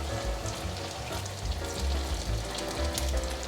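Food frying in a wok of hot oil, a steady dense crackling sizzle that runs continuously at moderate volume with no talking.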